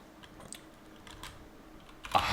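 Fingers typing on a computer keyboard, a run of soft scattered key clicks with a louder burst near the end, quiet and close, no voices.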